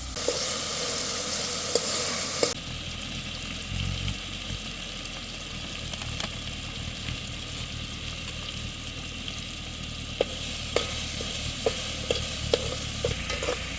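A tomato masala fries in a pan while being stirred, likely over a campsite fire. Continuous close sizzling is punctuated by sharp spoon clicks and scrapes, thickening into a quicker run of taps near the end.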